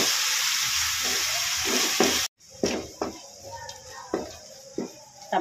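Tomatoes for masala pasta soften in a hot pan with a steady sizzle and fry. The cooking pauses briefly, then resumes with repeated scraping stirs close by.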